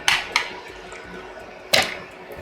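Asparagus dropped into an ice water bath makes two quick, close splashes in a row, then a brief pause and a third, larger splash, followed by faint trickling.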